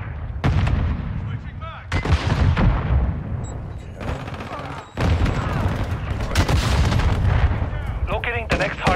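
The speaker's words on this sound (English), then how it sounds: "Taking effective fire!" Loud, close bursts of gunfire and explosive booms in a hardpoint match of a first-person shooter video game, with repeated volleys and automatic fire and game voice callouts in between.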